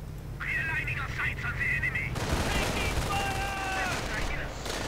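Rapid gunfire and machine-gun bursts in a 1v1 World War II real-time strategy video game battle with riflemen and MG42s, loud and continuous, mixed with in-game radio chatter and whistling tones.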